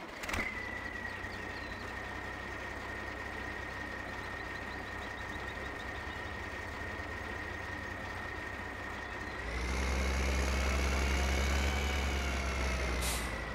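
Zetor Crystal tractor, rated 121 horsepower, in Farming Simulator 15, heard from the cab as a steady engine drone with a faint whine, which swells louder and deeper for the last few seconds, with no talking.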